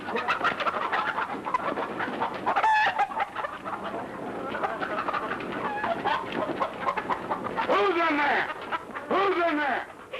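Chickens cluck and squawk in a 1942 comedy scene, a loud busy flurry of bird calls mixed with voices and other noise, with sharper squawks near the end.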